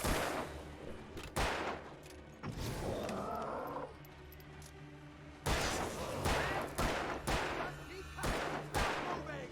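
Gunfire in the video game Alan Wake rings out in repeated sharp bursts and bangs, fairly quiet overall, mixed with game sound effects.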